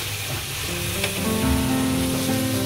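Chopped onion and chili hitting hot oil for soup noodles, a loud continuous sizzle with crackling close up, steady for the whole few seconds with no talking.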